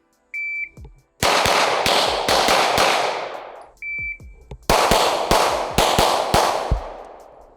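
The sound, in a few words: Glock pistol shots in a 5-yard box drill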